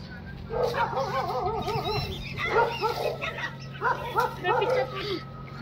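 Five puppies whimper and yip in short high-pitched bursts near a farm field, some calls overlapping, with someone talking over them.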